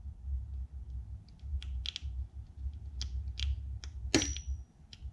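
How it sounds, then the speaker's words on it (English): Sharp, separate clicks from an electronic EGR valve opening and closing during a bench test, coming in irregular bursts over a low steady hum. "It should make a pretty pronounced clicking noise, and that's the valves down here opening and closing."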